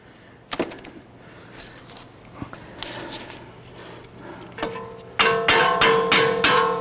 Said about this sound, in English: Tap that bolt through